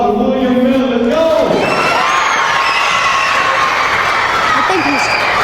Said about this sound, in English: give a round of applause for William Miller